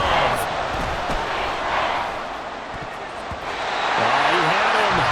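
Stadium crowd noise in the Madden NFL 24 football video game: a steady, loud roar of a large crowd that swells and dips over a few seconds, with a commentator talking over it.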